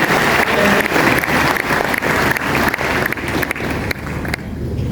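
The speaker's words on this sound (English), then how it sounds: "Please clap for them." A room full of lecture attendees applauds, a dense, continuous wash of clapping hands that stays loud and steady before thinning out near the end.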